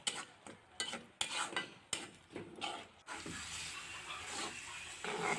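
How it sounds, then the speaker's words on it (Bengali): Spices with turmeric, salt and chilli stirred and fried in a pan: a run of sharp, rattling scrapes of a spoon against the pan, then a steadier soft frying hiss with occasional stirs. "মশলাটাকে ধৈর্য সহকারে কিছুক্ষণ নেড়ে চেড়ে কষিয়ে নিচ্ছি।"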